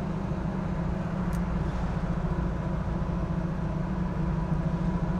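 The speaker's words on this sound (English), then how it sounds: "The car sounds nice and tight" A 1967 Chevrolet Chevy II Nova SS on the road, heard from inside as a steady low engine and road rumble with an even drone throughout and no voices.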